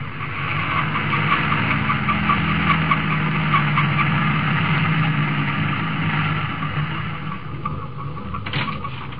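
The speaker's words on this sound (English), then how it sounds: "Standing in the glare of the headlights of an approaching truck, 16-year-old Wanda Malini is frantically waving her hand" A truck engine approaching at night on a highway as a radio drama effect, a steady loud rumbling roar with hiss that holds through the whole stretch, alone without voices.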